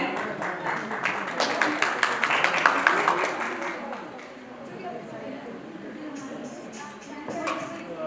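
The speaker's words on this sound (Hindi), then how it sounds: "प्लीज जोरदार तालियां तो हो जाए" Applause from guests at a ring ceremony, a burst of lively clapping that swells and then fades into quieter scattered claps, with a voice speaking over it.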